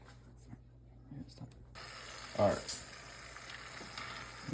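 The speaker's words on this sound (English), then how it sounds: "Place our tortillas in the pan." Tortillas frying in a pan give a soft, steady sizzle that swells after they go in, with a brief louder crackle; voices murmur faintly in the background.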